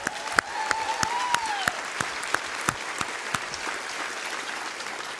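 Audience applause at a live retreat event, a steady wash of clapping from a crowd with sharp individual claps standing out and a brief whistle near the start, sustained evenly throughout.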